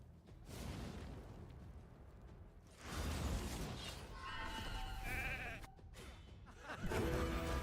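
In the Raid: Shadow Legends video game, sheep bleats sound after a polymorph spell, rising out of game effects with whooshes and booms around them.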